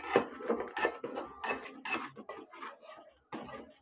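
Wheat mixture stirred in a pot with a utensil, a soft intermittent scraping and clinking of metal against the pan, close and fairly quiet with brief pauses.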